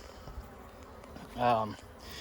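A honeybee colony in an open hive hums softly throughout, with a brief louder buzz as a bee passes close by near the middle.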